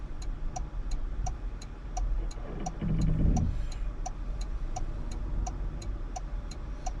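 A Toyota RAV4 reversing slowly on its own into a parking spot, the engine a low steady rumble under a regular ticking chime, with a brief swell of rolling noise midway.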